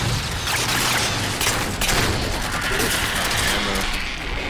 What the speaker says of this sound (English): The light rifle. Love this thing.